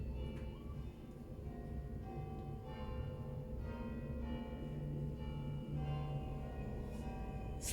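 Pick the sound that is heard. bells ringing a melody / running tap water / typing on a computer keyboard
bells ringing a melody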